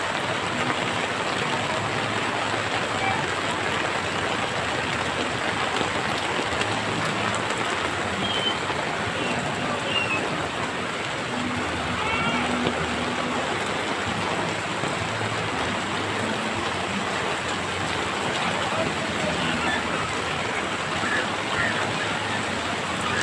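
Heavy rain pours down without a break during a river flood, a dense, loud and steady hiss of drops hammering nearby surfaces, with faint voices now and then.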